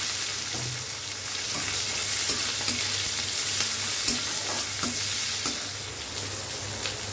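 Chopped onion, garlic and green chilli frying in a pan, a dense steady sizzle with periodic spatula scrapes and taps as it is stirred, close and fairly loud.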